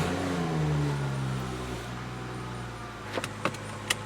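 A BMW is started after a repair to its CAS module, with a rising whir and engine catch that settles into a low steady idle, followed by a few soft clicks near the end.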